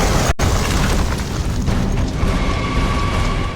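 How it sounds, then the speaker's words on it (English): Heavy artillery and mortar blasts in Gears of War: Judgment, a dense rumbling boom filling the scene loudly with a sudden short gap, and no talk. "Artillery fire!"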